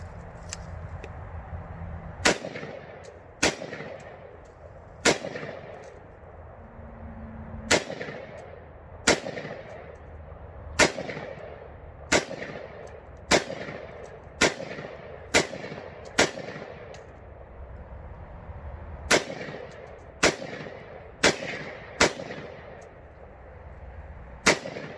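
An AR rifle with a Stoner upper fires about twenty loud, sharp shots at irregular intervals, with short gaps between bursts and some echo trailing after each report.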